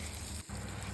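Onions sizzle steadily in hot refined oil in a pan, a close, even hiss with a brief dip partway through.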